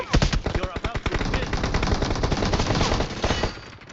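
Rapid video game gunfire in a shooter match, dense automatic bursts of loud close shots running nearly the whole stretch, with a voice faintly mixed underneath.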